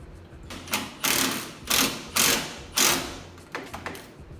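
A power tool spins a nut down a bolt on the clamp of a steering box brace on a Jeep XJ, running in repeated loud mechanical bursts until it stalls, with short ratcheting pulses at the end.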